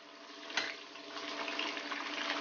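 Prawns for a pickle drop into well-heated oil, raising a steady broadband sizzle and hiss that swells after a small splash and continues without pause.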